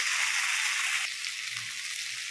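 Spice paste for a raw jackfruit and prawn dish sizzles loudly in a pan, and the bright hiss shifts and softens partway through as a little water goes in. No one speaks.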